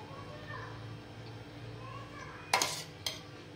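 A spoon clinks against a chicken biryani pot as ghee is added, two sharp metallic knocks late in the clip over a low, quiet kitchen background.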